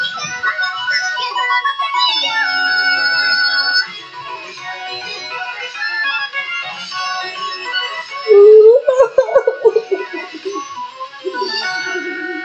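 Dogs howling in an animated cartoon show, long wavering tonal howls and whimpers that rise and fall, loud and layered, with a brief louder yelp near the end.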